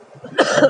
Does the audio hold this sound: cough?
yes